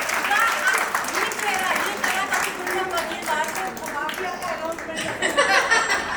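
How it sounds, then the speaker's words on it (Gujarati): Applause for a top business-referral achiever at an event, steady clapping from the audience over about six seconds, with talk and some chuckles mixed in. "તો એમના માટે તપન તાળીઓ."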